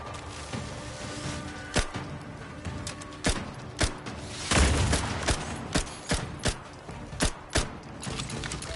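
An enemy fires at the player in the video game The Outer Worlds, sharp gunshots cracking one at a time at an irregular then steady rhythm over mechanical game ambience, with a heavy boom midway.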